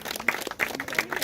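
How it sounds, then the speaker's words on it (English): Short burst of audience clapping at a community gathering, a brisk scattering of hand claps from a small group, fairly close and loud, with no talk over it. "give big clap for them"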